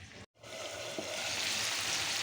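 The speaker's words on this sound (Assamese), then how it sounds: "এয়া মোৰ মাংস ভাজা হৈ গৈছে" Pork with cumin, coriander powder, ginger, garlic and meat masala frying in a pan, a steady close hiss of sizzling oil after a brief gap near the start, with no talk.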